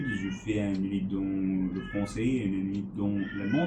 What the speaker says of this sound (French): Il miaou.